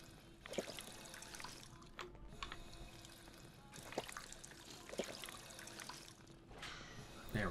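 Drinking-fountain water in Fallout 4's Vault 81 trickles and splashes softly in a continuous stream, with faint gameplay ambience behind it.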